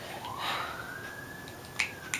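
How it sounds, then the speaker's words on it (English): Police car sirens wail faintly in the distance with a rising tone, plus a couple of sharp clicks near the end. "Cop sirens."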